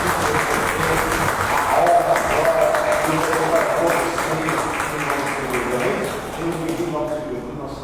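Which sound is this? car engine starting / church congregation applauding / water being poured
church congregation applauding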